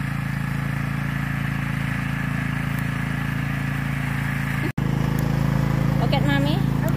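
Tractor engine runs in a backyard garden with a constant low, buzzing drone, while people talk over it and a brief cut breaks the sound partway through.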